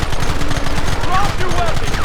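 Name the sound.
gunfire in shootout, from video game Red Dead Redemption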